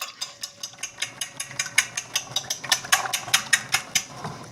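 Eggs whisked with milk and salt in a bowl, a steady rhythm of quick metallic clicks, close and moderately loud, continuing throughout without talk.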